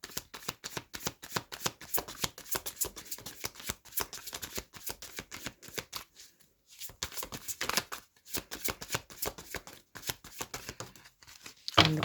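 Tarot cards shuffled close up in a steady run of dense papery riffles and slaps, pausing briefly twice before resuming, with a louder final burst at the end.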